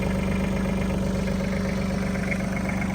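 A Kubota L3130 tractor with an LA530 loader idles steadily, a low, even diesel chug that holds constant throughout with no revving and no voices.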